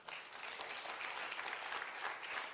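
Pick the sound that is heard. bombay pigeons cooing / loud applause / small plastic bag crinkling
loud applause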